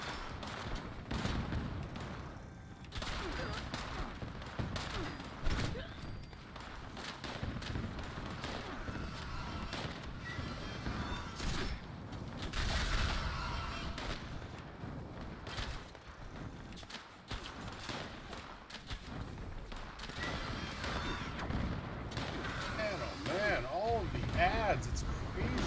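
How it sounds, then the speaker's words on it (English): Gunfire in the video game Fallout 76, dense bursts of shots and thumps running through the whole stretch under steady talk and game noise. "Somebody's shooting me."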